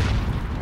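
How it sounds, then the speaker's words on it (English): Grenade explosion in Call of Duty on the Shipment map, a brief deep boom with a rumbling tail, loud and close, with no voices. "I do like to throw out random grenades on this as well"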